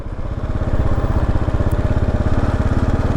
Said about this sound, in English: the single cylinder thumper is a new experience for me